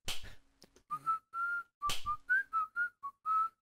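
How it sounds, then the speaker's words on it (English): Melodic whistling from the Baldi's Basics video game, a run of short clear whistled notes in a bouncing tune, fairly close and alone, with a brief sharp noise burst near the start and another partway through. "Is it Baldi that whistles?"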